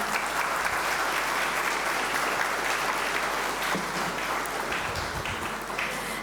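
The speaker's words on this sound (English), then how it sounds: "The applause should be dedicated to each one of you." Sustained applause from a conference audience at a banking technology awards event, dense and steady for several seconds, tapering slightly at the end with no voices on top.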